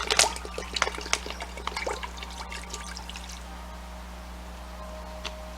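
Cold bottled water pours over a pork loin to submerge it, starting with a burst of splashing and gurgling, then trickling and dripping more quietly to near stillness.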